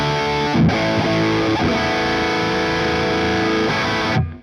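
Heavily distorted electric guitar, re-amped through a 4x12 cabinet miked with a 57 and a 121, plays sustained chords and a few muted chugs, loud and dry with no delay or reverb, ending abruptly.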